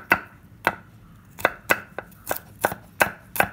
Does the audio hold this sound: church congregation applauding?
no